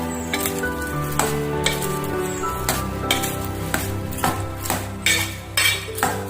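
Crab roast is mixed in a pan, loud and close, with a dense sizzle of frying running under frequent metallic scrapes and clinks of a spoon against the pan.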